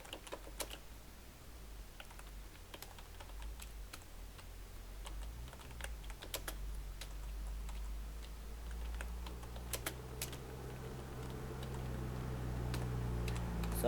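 Steady keystrokes on a computer keyboard while working in a Microsoft Word document, an irregular stream of soft taps heard close over a low background hum.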